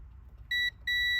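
A multimeter continuity tester gives two short electronic beeps, high and clear, one after the other against a quiet background, while checking fuses on a Buick Enclave.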